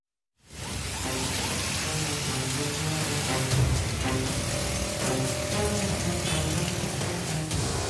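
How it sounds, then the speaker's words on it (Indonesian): Heavy rain driven by strong wind pours down over Bandung on a Wednesday evening, a dense, steady roar that starts suddenly and stays loud and constant throughout with no talking. "Hujan deras disertai angin kencang melanda sebagian kota Bandung Rabu petang."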